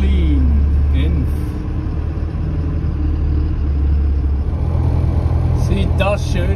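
A camper van pulls away from a campsite with a low, steady engine rumble and road noise throughout, close and continuous, with someone talking over it.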